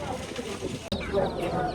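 Pigeons coo softly at a crowded Friday pigeon market in Dakshinkhan, a low murmuring coo heard over a busy background of people talking nearby.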